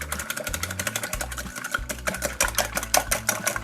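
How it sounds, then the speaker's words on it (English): Eggs are whisked hard in a bowl for an omelette-style dish, producing rapid, rhythmic ticking strokes of the whisk against the bowl over a low, steady background hum. "First I break them up a little bit, then just whisk the hell out of it."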